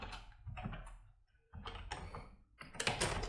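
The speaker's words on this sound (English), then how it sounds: "So I'm typing the command" Fingers type a command on a computer keyboard, producing irregular soft clicks and taps in short bursts with a brief pause midway, quiet and close.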